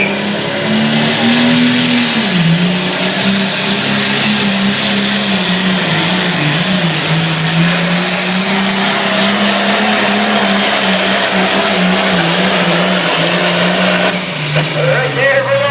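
A Super Stock class pulling tractor roars at full power on a county fair track, a loud sustained engine drone that holds steady for the whole pull and dips slightly near the end.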